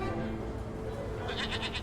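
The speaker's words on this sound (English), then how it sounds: "Are you like a cybernetic goat?" A goat with tattoos in Dreamfall Chapters bleats near and clear, a short wavering cry over a steady background hum of game ambience.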